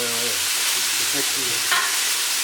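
Food frying in a very hot wok-like pan with very little fat, a steady dry sizzle with light stirring and scraping throughout, close and moderately loud.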